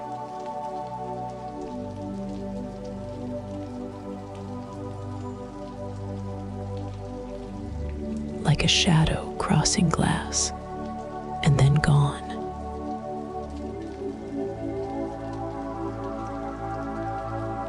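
Slow, steady rain patters softly on a surface outdoors at night, a continuous gentle wash under a calm spoken voice, with a couple of brief louder rustling bursts in the middle.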